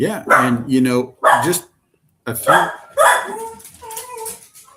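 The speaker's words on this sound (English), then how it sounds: "That's my dog, everybody." A dog barks several times in short, loud bursts with pauses between them, mixed with someone speaking nearby.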